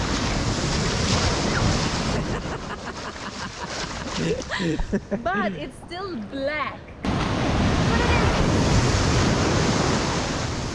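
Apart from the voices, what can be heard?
strong ocean waves at a Gran Canaria beach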